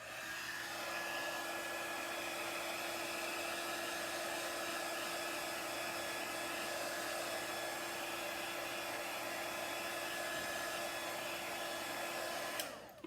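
A hair dryer blowing on a chalk-decorated craft item, a loud steady whirring roar that runs nearly continuously before switching off abruptly near the end, with no voices.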